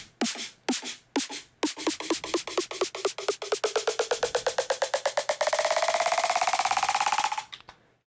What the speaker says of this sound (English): Which gives us a very basic pitch riser.